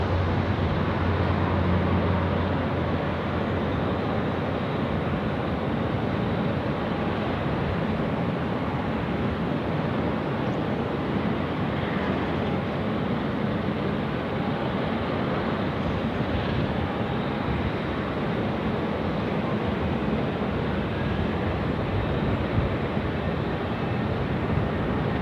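A KC-135 tanker taking off from runway 16 right at Sydney Airport, heard as a steady, loud broadband jet roar that holds for the whole stretch with a low rumble underneath and no voices.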